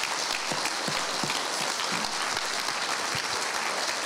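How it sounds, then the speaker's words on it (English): A church congregation applauding, a broad continuous roar of many hands clapping that holds steady from start to finish, loud and close with no voices standing out. "can we just give all those names a massive round of applause?"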